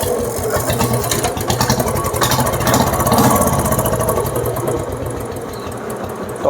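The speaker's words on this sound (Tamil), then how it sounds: "ஹெவி கிராங்கில் இந்த மாதிரி பீட் உங்களுக்கு கேட்கும்" A 2015 heavy crank Royal Enfield Bullet engine idling just after starting, a steady close, loud thumping beat with a fast mechanical clatter throughout.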